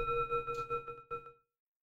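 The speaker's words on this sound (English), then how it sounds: "I have a little sound bowl and it sounds like this." A small sound bowl struck once, giving a clear ringing tone with steady overtones that sustains for over a second, then cuts off into silence; close and alone.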